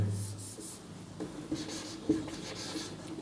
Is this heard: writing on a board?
yes